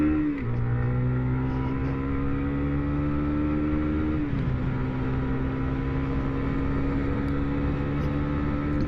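An RKS SRV 125 motorcycle climbing a slope at speed gives a steady, loud engine drone with rich harmonics; the pitch dips briefly twice, as during gear changes, before settling again. No talk is heard.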